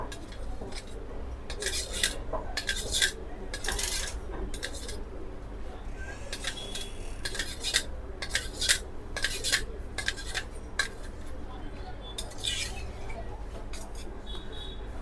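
Knife cutting set china grass jelly in a dish for a green custard dessert, repeated soft scraping and clinking strokes against the container, faint and close over a steady low background hum.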